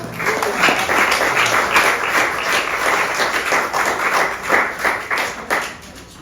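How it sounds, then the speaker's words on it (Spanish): A church congregation gives a strong round of applause during a sermon, dense clapping at close range with sharp individual hand strikes standing out, swelling and easing over several seconds. "Dale un fuerte aplauso al Rey"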